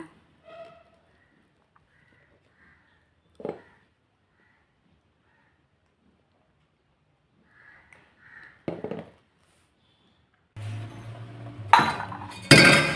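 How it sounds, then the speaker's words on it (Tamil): Scattered clinks and clatter of dishes and utensils, sparse at first, then denser rattling and scraping toward the end, close by. "அந்த பாத்திரத்தை நான் கழுவ ஆரம்பிச்சிட்டேன்"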